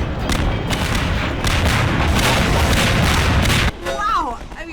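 Rocket blasts and heavy explosions roar continuously during a boss fight in Half-Life 2: Episode One, a dense, loud wall of booming detonations that cuts off abruptly near the end, followed by a brief spoken voice.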